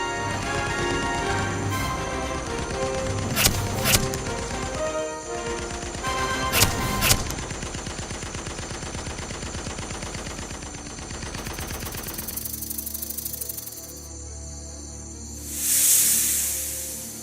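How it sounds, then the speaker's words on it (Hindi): Continuous rapid gunfire rattles on for several seconds with a few sharper shots, then fades into a hissing rush and a brief burst of noise. "उस पे गोली चलाओ।"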